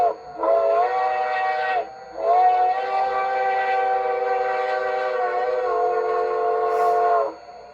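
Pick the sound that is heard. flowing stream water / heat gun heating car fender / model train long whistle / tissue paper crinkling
model train long whistle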